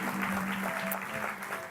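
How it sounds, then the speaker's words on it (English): An audience applauds at an awards event. The steady, dense clapping of a crowd is heard at moderate volume for a brief stretch. "so let's give them all a round of applause."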